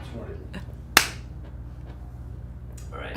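One sharp hand clap lands near the start, struck to sync several cameras during an interview shoot, crisp and close in an otherwise quiet room with faint murmuring around it.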